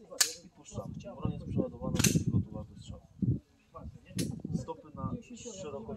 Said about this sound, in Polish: Broń jest przeładowana, przygotowana do strzału.